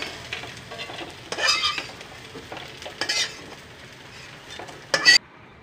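Fried soya chunks being stirred and lifted out of a hot wok of oil, soft sizzling with a few louder scraping bursts of metal against the pan, no talking.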